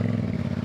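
A motorcycle engine runs loud and close with a dense low throb and a rough, steady pulse through a brief stretch, on a road trip across Morocco; no speech.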